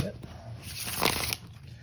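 A tarot card deck being shuffled by hand, a short burst of papery riffling and crinkling that peaks briefly before settling.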